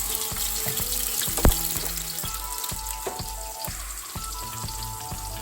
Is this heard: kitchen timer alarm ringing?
no